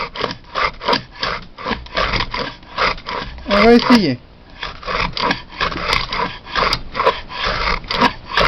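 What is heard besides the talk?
wood groove plane (bouvet, size 10) cutting across grain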